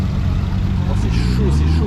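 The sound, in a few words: Chevrolet Corvette car arriving, engine running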